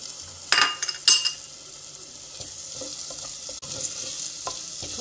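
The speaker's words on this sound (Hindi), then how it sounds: "लहसुन अदरक के बाद इसमें टमाटर डालेंगे।" Tomatoes frying and being stirred in a pan while making restaurant-style chicken handi, a steady sizzle under a few louder scraping clatters of a spoon against the pan near the start.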